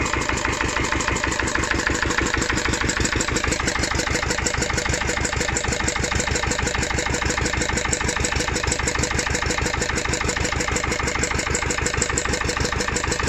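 A vintage ES 320 stationary engine running on gear oil at its first start after winter, chugging with a steady, loud, rapid mechanical beat throughout, close by and without any talk.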